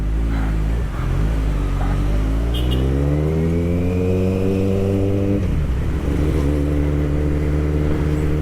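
A Kawasaki ZX14R big bike's engine revs loud and close as it filters through traffic, the pitch climbing steadily, holding high, then dropping and steadying into a strong droning run.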